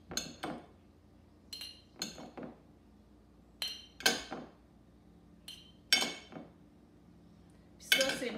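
A spoon clinks and scrapes against a jar as seasoned ground beef is portioned in for a salad in a jar. About seven short, close clinks come in separate bursts with quiet gaps between.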